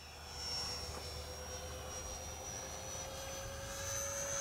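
An E-flite A-10 Thunderbolt II 64mm electric ducted fan RC jet makes a half-throttle flying pass, a steady high-pitched turbine-like whine with a lower hum, swelling slightly as it goes by, with no voices.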